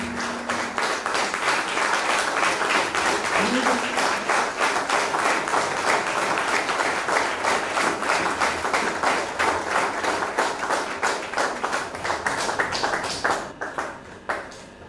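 Church congregation applauding during an anniversary Mass for the Sainte Famille choir: sustained, full clapping from a large crowd with a rhythmic pulse, fading near the end.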